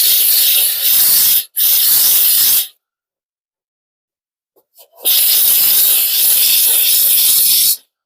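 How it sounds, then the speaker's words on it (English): A steam cleaner hisses inside a 1978 Ford Thunderbird, loud close bursts of spraying steam, two short blasts, a pause of silence, then a longer sustained hiss. "the steam is actually killing whatever germs is in there"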